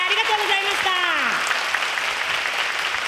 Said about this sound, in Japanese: 皆様盛大な拍手でお見送りください。